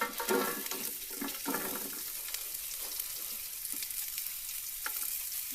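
Onions hitting a hot pan at a winter backpacking camp in Arizona, sizzling and frying steadily with scattered stirring scrapes, close and fairly quiet throughout.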